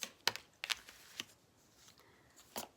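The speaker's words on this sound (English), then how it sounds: "this needs an extra shuffle" Tarot cards being shuffled by hand, crisp riffling bursts at irregular intervals with quiet pauses between, close and fairly soft, no talking.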